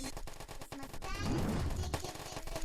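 Rapid bursts of gunfire from shooting in a Skibidi Toilet game on hard mode, dense and continuous, with heavy blasts in the middle and sharp shots scattered throughout.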